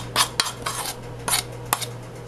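Metal utensil scraping and clinking against a pot of pot roast topped with olive oil and stock, a few short, fairly close stirring scrapes over a steady low hum.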